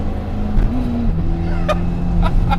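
A stroked 2.0-litre Audi S4 pulls hard, its engine note climbing loudly from inside the car, with sharp pops or shift cracks near the end; a voice is faintly present.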